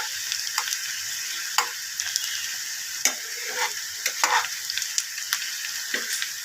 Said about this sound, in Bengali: এখন হয়নি, আর একটু ভাজা হবে।